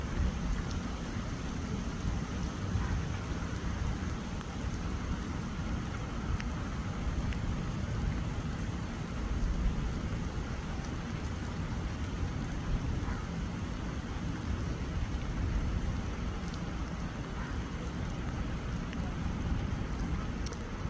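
Steady heavy rain at an RV park in Estes Park, Colorado, a dense continuous hiss with a low rumble of thunder underneath, close and even throughout with no voices.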